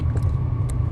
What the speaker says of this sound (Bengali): এই টানেল দিয়ে আমরা যাচ্ছি এখন ড্রাইভিং করে।